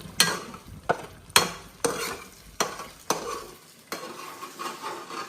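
A smashed mixture fries in a pan while a spoon scrapes and stirs it in a run of sharp, evenly spaced strokes over a soft, steady sizzle, close up with no voices.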